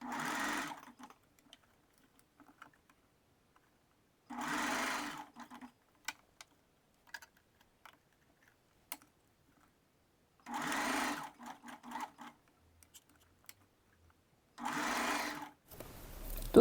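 Sewing machine stitching a bra cup seam into the band, in four separate bursts of a few seconds each with quiet handling noises between them.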